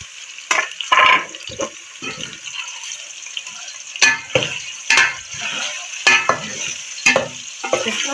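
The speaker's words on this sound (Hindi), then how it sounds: "ये पहले हम इसको चिकन को 10 मिनट तक फ्राई करेंगे।" Chicken frying in ghee gives a close, steady sizzle, broken every second or so by scraping stirs of a spoon through the pan, with no voices.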